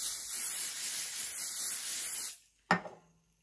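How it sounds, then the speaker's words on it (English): A steady hissing spray from an aerosol can onto minky fabric in an embroidery hoop lasts about two seconds, stops, then a single sharp click or tap follows. "So now I'm ready for my spray."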